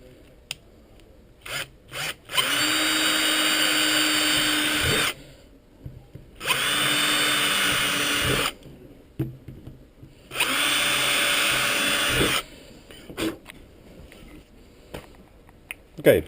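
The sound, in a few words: power drill drilling rivet holes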